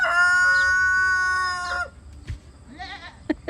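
A rooster crows loudly and close by in one long harmonic call, then a goat-like bleat and a few short knocks follow.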